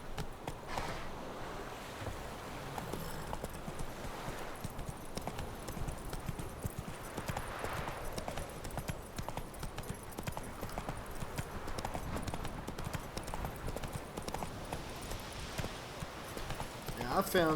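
Roach the horse's hooves clip-clop steadily along a path in The Witcher 3 video game, a continuous rhythmic walking gait heard at mid distance, with someone talking over it at times.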